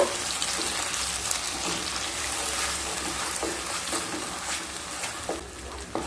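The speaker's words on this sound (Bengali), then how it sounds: "এবার দিয়ে দেব পেস্ট করে রাখা মশলা। এবার একটু নেড়ে নেব।" Spice paste fries and sizzles in a kadai while being stirred for kadai paneer, a bright hissing crackle with occasional scraping knocks, fairly quiet and close.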